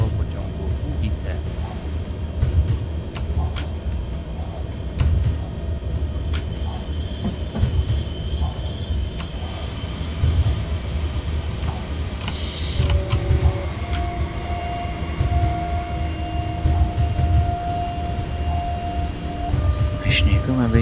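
An E186 electric locomotive hauling a freight train in SimRail 2021, a steady rumbling rolling drone with rhythmic wheel clatter and occasional high squealing and whining tones, continuous throughout.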